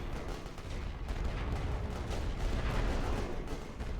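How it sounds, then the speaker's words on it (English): Artillery fire in the video game The Great War: Western Front, a dense, continuous barrage of booming blasts that rumble and overlap steadily throughout, loud and unbroken, with no voices. "He's hitting me with his artillery now."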